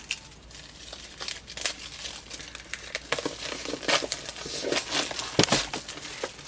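Paper seal on a MacBook Air 2020 box is torn and crinkled close up, a run of rustling, ripping bursts that grows busier toward the end.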